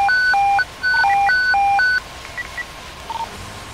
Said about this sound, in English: Oh, Station 9's tones.